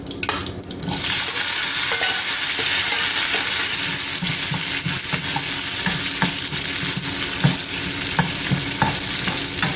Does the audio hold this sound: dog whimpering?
no